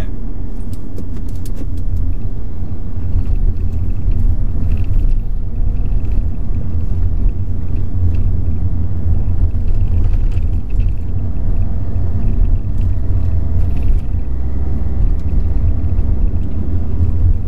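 A car engine droning steadily while driving through Caen on a driving-lesson route, shifting up into third gear; a loud continuous low rumble with no talking.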